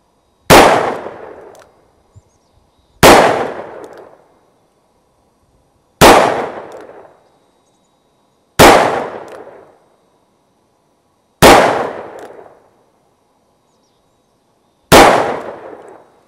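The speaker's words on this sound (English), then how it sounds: "fire 6 rounds and see where this is hitting" Six loud, sharp gunshots from a Charter Arms Pathfinder .22 Magnum snub-nose revolver firing Federal 40-grain full metal jacket rounds at a target 5 yards away, spaced roughly two to three seconds apart, each with a short decaying tail.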